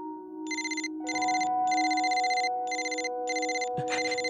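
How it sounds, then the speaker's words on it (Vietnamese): A telephone rings in an animated film, giving repeated electronic trill bursts in an even rhythm over a sustained tonal background. A short knock-like thud lands near the end, with no speech. "Điện thoại của anh."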